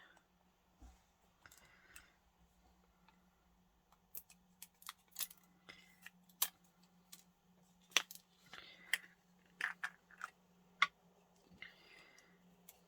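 Scissors trimming plastic packaging at an art-journal craft table, a run of sharp, close snips and clicks that grow denser toward the end over a steady low hum.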